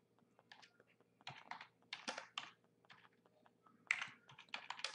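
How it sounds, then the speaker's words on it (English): Bursts of keystrokes on a computer keyboard come in uneven runs of quick clicks, close and fairly quiet, with brief pauses between flurries and a low steady hum underneath. "And all I'm doing is typing here."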